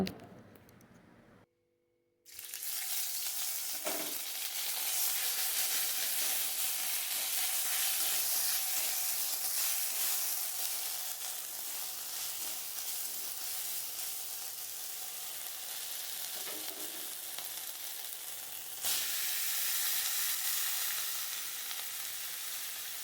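Ginger paste and chopped bottle gourd hitting hot oil in a pan: after a short near-silent pause, a loud, dense frying sizzle bursts in and holds steady, with occasional faint stirring clicks, close and without speech.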